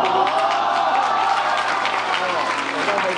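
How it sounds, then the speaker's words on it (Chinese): A university Christmas dance party crowd claps at a rope magic act, producing steady, dense applause that continues evenly throughout, close and fairly loud. "好，非常好，掌声鼓励"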